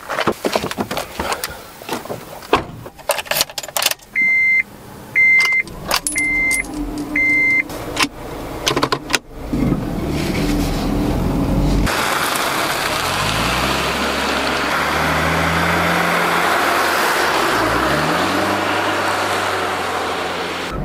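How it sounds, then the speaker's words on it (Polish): Honda Insight hybrid car pulling away with its combustion engine running, preceded by interior clicks, a door closing and repeated chimes, then a steady, loud engine and road drone that rises and shifts as it accelerates. "Po ruszeniu Insightem w ogóle nie czujemy, że jedziemy hybrydą, ponieważ silnik spalinowy cały czas podczas jazdy pracuje."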